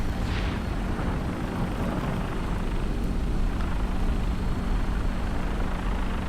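A big fiery explosion in Fallout 4 with the Nuka World DLC, heard as a sustained loud roaring rumble that stays dense and steady throughout, with no talk.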